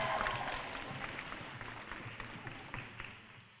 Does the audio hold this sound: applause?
yes